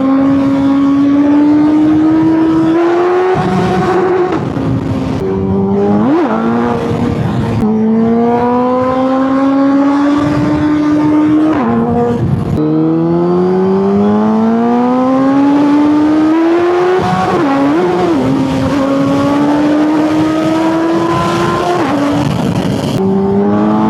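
Suzuki Hayabusa 1300cc motorcycle being ridden, a loud, close engine whine climbing steadily through repeated upshifts, each gear change marked by a brief dip before the pitch rises again.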